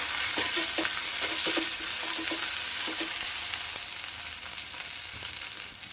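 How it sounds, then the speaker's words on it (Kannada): Mint and coriander leaves fry lightly in a pan with a steady, close sizzle, while a utensil stirs and scrapes them in soft repeated taps. The hiss fades gently toward the end. "ಪುದೀನ ಮತ್ತು ಕೊತ್ತಂಬರಿನ ಲೈಟಾಗಿ ಫ್ರೈ ಮಾಡ್ಕೊಳ್ಳಿ ಸಾಕು."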